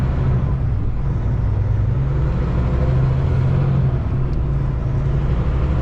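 A truck with an Endurant XD transmission pulling away in fourth gear, giving a steady, loud, low engine rumble that holds close and even throughout.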